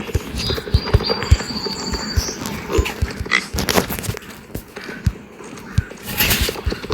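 A horse gallops in a video game, rhythmic thudding hoofbeats repeating steadily and fairly close, with scattered clatter and brief higher noises over the top.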